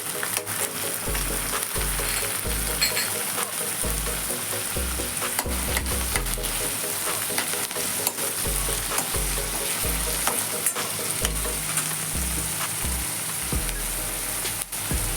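Onions sauté in a pan for an Indian paneer makhanwala curry: a constant bright sizzle with scattered clicks and soft thumps of stirring, loud and near, with no talk.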